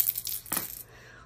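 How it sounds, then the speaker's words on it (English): Two dice rolled for a tabletop savings challenge game clatter briefly on a hard surface, a quick burst of close, light rattling clicks that settle into quiet. "what this is you roll two dice and you align one going across the top and one down"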